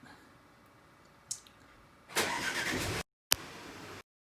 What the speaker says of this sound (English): 1, 2, 3, and the car should remote start